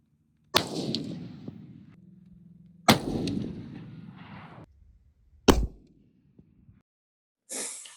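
Three loud, sharp rifle shots from a Christensen Arms lightweight hunting rifle in 6.5 PRC, each with a long decaying outdoor echo and several seconds of quiet between them.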